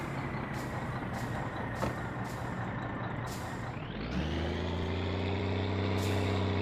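A heavy truck engine in the video game My Summer Car rumbles with a hiss of air brakes, then the engine pitch rises as it shifts into low gear and revs while backing up.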